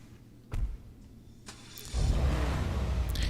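The Obey Tailgater car in a Grand Theft Auto video game: a couple of brief mechanical clunks, then the engine starts and settles into a steady, fairly loud running rumble.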